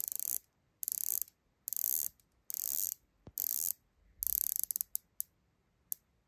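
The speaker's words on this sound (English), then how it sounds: "The unidirectional ceramic bezel is very smooth." Ceramic unidirectional bezel of a Rolex Deepsea 116660 dive watch being turned, giving several bursts of crisp ratcheting clicks separated by pauses, then a few single clicks, close and clear with no talk.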